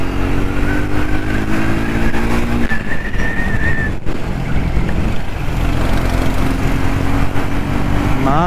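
Triumph Speed 400 motorcycle engine revving hard and accelerating through the gears, loud and close, with rising pitch sweeps and a gear change midway.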